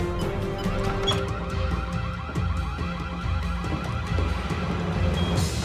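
An alarm system goes off in a prison-break TV drama, a loud electronic alarm repeating in a steady pulsing pattern over a busy, noisy background, with no talking.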